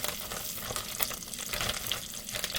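Battered yellow squash frying in hot oil, a steady dense sizzle and crackle heard up close without any talking.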